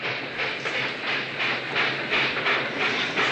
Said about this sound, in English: the train's probably stopped for Mort Finney's Holstein.